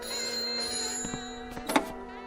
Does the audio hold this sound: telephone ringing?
yes